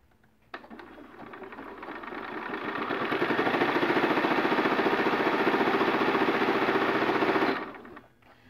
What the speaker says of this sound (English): the machine still penetrated all those layers of that canvas and just kept on sewing